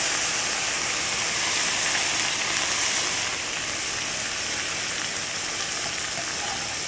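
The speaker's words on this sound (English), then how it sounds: "We're going to add some white wine to the pan, and we're going to scrape up all the bits on the bottom" White wine hitting a hot pan of caramelized onions, giving off a steady, loud hissing sizzle that holds for about seven seconds and eases slightly partway through, with no talking.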